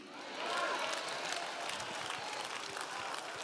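Light applause from a church congregation at a revival service, a soft, sustained patter of many hands at a distance.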